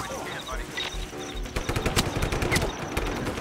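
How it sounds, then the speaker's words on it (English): Automatic gunfire in the video game Just Cause, bursts of rapid shots crackling over a steady game soundscape, loud and close, growing denser toward the end. "Who's shooting me?"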